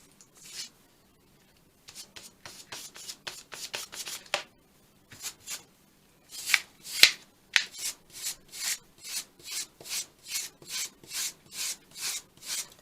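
Dry brushing a junk journal cover, a series of short, scratchy brush strokes close up, coming in uneven bursts at first and then in a steady rhythmic back-and-forth.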